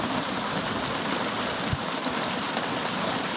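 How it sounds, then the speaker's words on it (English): Rushing water from a waterfall roars as a constant, dense wash, with one brief low thump partway through. "oh, there's a waterfall."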